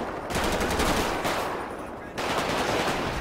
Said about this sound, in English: we got one that's returning fire now